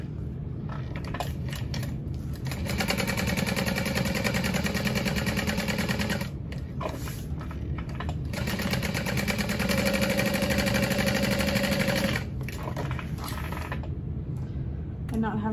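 A sewing machine stitching a seam on a Fortuna backpack, a steady close mechanical whir running in long stretches with brief pauses between runs, and a voice talking over it.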